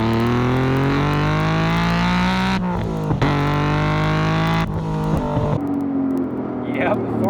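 A tuned Honda NSX making about 400 wheel horsepower on E85 fuel revs hard, its engine note rising and falling in sustained pulls with short gear-change breaks, loud and close before settling toward a lower drone.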